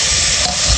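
A pan hisses and sizzles steadily while a green mango dish cooks, a close, continuous frying noise with no talking over it.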